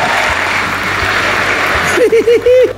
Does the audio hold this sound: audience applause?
yes